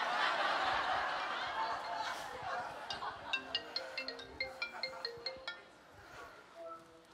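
A mobile phone left on a stage rings with a repeating electronic melody of short, bright tones, heard over crowd murmur and scattered chuckles from an audience.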